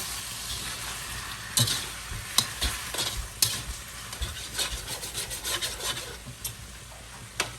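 Chicken stir-frying in a wok on a home kitchen stove, with a steady sizzle broken by repeated scraping and clattering strokes of a spatula against the metal, close and fairly loud, with no talking.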